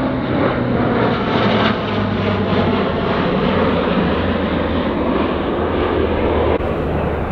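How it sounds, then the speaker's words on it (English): A fixed-wing aircraft flies overhead above a golf course during long-drive hitting, a loud, steady broadband engine roar that fills the whole stretch with no talk. "I think it's a DC-30 if I'm not mistaken."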